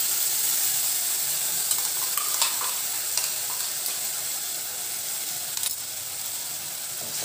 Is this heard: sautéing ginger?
yes